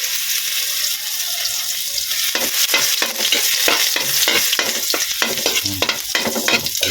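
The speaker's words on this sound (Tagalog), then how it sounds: "Mainit na ang ating mantika. Lagyan natin ng ating, unahin natin yung ginger guys." Ginger slices sizzle and crackle in hot cooking oil while being stirred, with a steady bright frying hiss and repeated scraping stirs close by.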